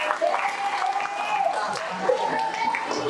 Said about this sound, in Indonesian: Jadi, tepuk tangan buat kalian semua.